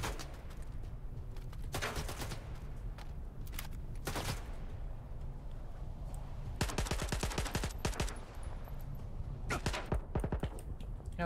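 Gunfire in the shooter game S.T.A.L.K.E.R. 2, with several separate bursts and single cracks spread across the stretch, some sharp and rapid like automatic fire, over a steady low ambient rumble.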